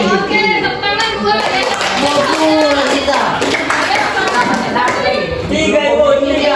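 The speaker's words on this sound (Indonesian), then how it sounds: "Oke, tepuk tangan dua." Children in a classroom clapping together amid chatter and a teacher's voice, sharp claps mixed with lively talk throughout.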